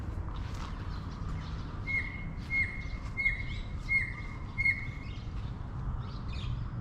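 A racket-tailed bird in Thailand calls a handful of times, each a quick downward-sliding whistle, spaced under a second apart and set over low outdoor background noise.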